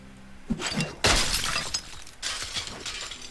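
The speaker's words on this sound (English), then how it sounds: "Why did I destroy the lamppost?" A lamppost smashed apart in Diablo III, with a sharp, loud shattering crash of breaking glass followed by scattered debris and smaller breaking bursts trailing off.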